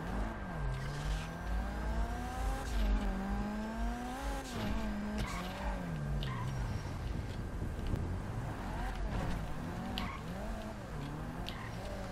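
Car engine in GTA V Online, sweeping up and down in pitch as it drives, with tire squeals and skids before it is brought to a stop and parked; loud and continuous throughout.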